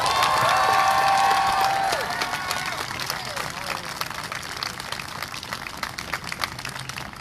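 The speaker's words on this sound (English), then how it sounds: "Can we have some people clap for that?" Crowd at a Black Lives Matter protest for Daunte Wright at the Rhode Island State House claps and cheers loudly, with whistles and shouts over broad applause that fades to a lower sustained murmur.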